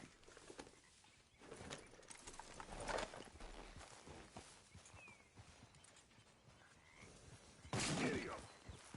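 Horse hooves clip-clopping at a walk in the video game Red Dead Redemption 2, a soft, uneven stream of hoofbeats with faint ambient noise and no talk.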